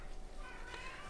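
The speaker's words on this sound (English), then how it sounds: "there goes my cat crying in the background" A house cat meows faintly in the background of a room where a Gigabyte RX 6600 graphics card is being repaired, a single short cry under steady hiss.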